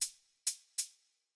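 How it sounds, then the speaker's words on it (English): A single hi-hat sample from a sample pack, struck three times in quick succession, each hit crisp and bright with a short decaying tail, isolated and fairly quiet. "So I have two hi-hat samples from my sample bag."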